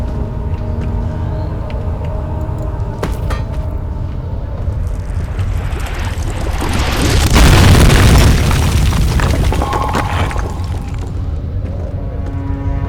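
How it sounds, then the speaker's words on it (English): A rocket blast in the video game Amnesia swells into a deep, loud boom a few seconds in, rumbling for a couple of seconds before fading back to a steady low background. "Let me throw a rocket from a closer distance."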